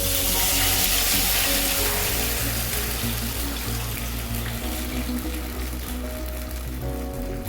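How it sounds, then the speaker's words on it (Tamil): Wheat flour batter poured into hot ghee for halwa gives a steady, close sizzling hiss that fades slightly as it continues, with a low background hum and no talking. "இதே நெய்யிலேயே ஊற்றிக்கலாம்."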